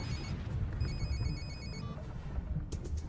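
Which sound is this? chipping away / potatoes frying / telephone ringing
telephone ringing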